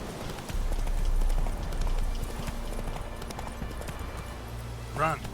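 Roach, a horse in the video game Witcher 3, gallops in a rapid rhythmic clip-clop of hooves that comes through clearly and continuously, with a voice speaking over it and a brief whinny near the end.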